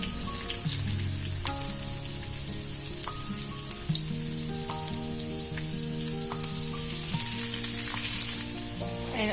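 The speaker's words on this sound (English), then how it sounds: "zira and the kali mirchi and the kariya pak, and fry it a little bit" Cumin seeds, black pepper and curry leaves fry in hot oil in a pan, a steady crackling sizzle with frequent sharp pops and spits, close and continuous.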